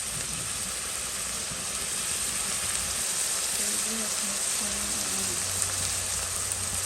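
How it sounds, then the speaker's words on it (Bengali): Ground spices sizzle as they fry with onions in a pan, a steady broadband hiss like rain running through the whole stretch, with faint low hum and soft clinks underneath. "ভেজে নেব আর সাথে হচ্ছে গুঁড়া মশলাগুলো দিয়ে দেবো"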